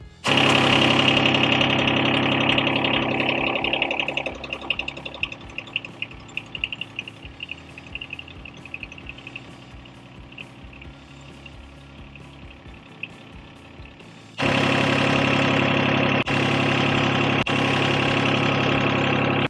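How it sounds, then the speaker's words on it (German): Golf course reel mower engine running, a loud steady mid-pitched engine that drops to a lower idle rumble with knocking vibration, then picks back up to a strong steady drone near the end. "Und wenn ich jetzt noch den Motor anmache"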